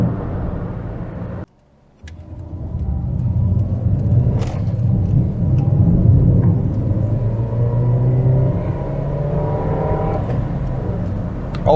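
Fiat Panda Mk3 1.1 Active Eco car driving on the road and overtaking, heard from inside as a loud steady engine drone and road rumble that rises under acceleration, with one brief dropout near the start.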